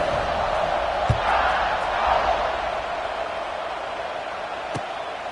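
A stadium crowd in an NCAA college football video game gives a broad, sustained roar before a kickoff, with a few sharp thuds and a swell that slowly fades, heard at a distance.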